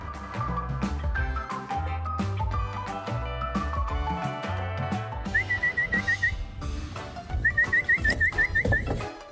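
A person whistles to call golden retriever puppies, first in a melodic tune and then in rapid repeated chirps, close and clear over soft background music.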